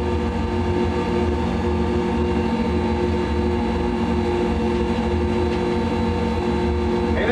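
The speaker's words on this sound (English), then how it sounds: "Maybe that's just the sound of the engine on this thing. It does have a whine to it." A Zenith STOL light airplane flies low over the ground, its engine giving a constant droning whine with steady tonal hum from inside the cabin, loud and unbroken throughout.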